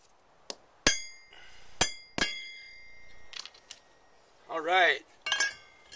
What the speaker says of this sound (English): To mark these, I'm just going to use my nail punch.